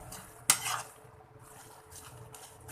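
Soaked bread pieces for bread halwa fried and stirred in a pan produce a sharp metallic clink from the spoon, then quiet scraping and faint sizzle at a low level.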